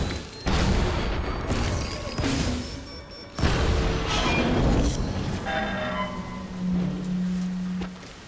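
Heavy smashing impacts and crashing debris in inFAMOUS Second Son, loud broadband hits with a low rumbling tail near the end, fairly dense and continuous throughout.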